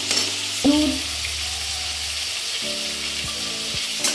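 Prawns, fried spice mix and Malabar spinach sizzle in a pan, a continuous moderate frying hiss broken by a few sharp stirring knocks of a utensil, with no talking.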